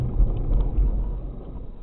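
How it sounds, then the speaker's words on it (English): A car brakes hard on snow at about 15 mph as its anti-lock brakes engage, giving a steady low mechanical rumble with faint pulsing thumps and no talk over it. "Definitely heard the anti-lock braking kicking in there."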